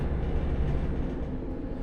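A train runs past a rural Welsh station platform without stopping near a level crossing, giving a steady, loud low rumble of wheels and carriages that holds evenly throughout with no voices.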